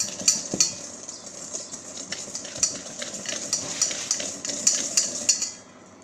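A whisk beats sugar with egg yolks in a bowl, rapid rhythmic metal clicks and scrapes against the sides going on steadily up close, easing off at the very end, with no voices.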